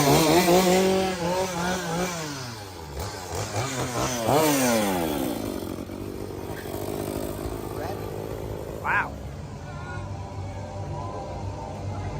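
A chainsaw run by a Fright Fest scare actor revs loudly in rising and falling bursts, then drops to a rough idle under crowd noise and nearby voices.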